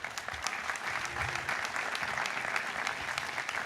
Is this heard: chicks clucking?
no